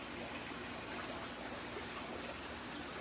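Aquarium water drains through a Mag 12 pump into a water-change bucket, giving a steady, even rushing stream with no breaks, fairly quiet and unaccompanied.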